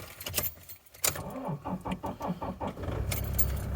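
Someone getting into a four-wheel-drive car on an Irish homestead: keys jangle, a door thumps, and the engine starts and settles into a low rumble.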